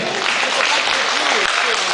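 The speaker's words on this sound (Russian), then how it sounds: "Еще раз проводим аплодисментами." Dense applause from a festival audience fills the whole stretch, steady clapping from a crowd with voices mixed faintly underneath.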